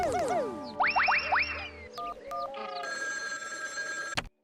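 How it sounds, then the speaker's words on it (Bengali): A cartoon telephone rings in short bursts of bright electronic trilling, mixed with playful boing-like sound effects, then breaks off abruptly at the end. "চল একটু আড়ালে গিয়ে চিমটির মামিকে ফোন করে জানাই।"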